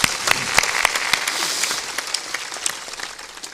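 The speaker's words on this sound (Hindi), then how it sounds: "कम से कम उसके लिए तालियां जोर से बजाना पड़ेगा" An audience at a devotional discourse by Sant Shri Asang Dev Ji Maharaj claps loudly, with sharp individual claps standing out at first before settling into a steady, fading patter.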